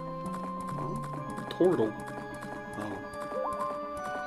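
Horse hooves clip-clop in a steady rhythm during riding in a video game, with a brief whinny in the middle and game music running underneath while a person talks over it.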